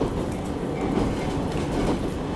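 A JR Shikoku train runs along the Iyonada line by the sea, a steady near rumble of wheels and carriage with faint clickety-clack beats, continuous and alone with no voices.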